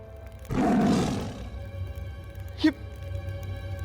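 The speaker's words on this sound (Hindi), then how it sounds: "ये तो बाघ है।" A tiger lets out one loud, close roar lasting about a second, followed by a short sharp growl and low rumbling background.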